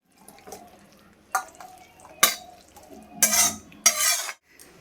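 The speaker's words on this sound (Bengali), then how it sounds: "এটাকে ভালো করে মেখে নেব চলো ভালো করে মিশিয়ে নিলাম" A spoon stirs and mixes food in a bowl during home cooking, giving several separate scraping, clattering strokes spaced irregularly in an otherwise quiet kitchen.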